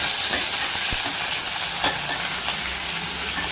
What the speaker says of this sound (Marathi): त्याची टोमॅटो काही टाकणार आपण? सगळं टाकणार. ढवळून घेऊया.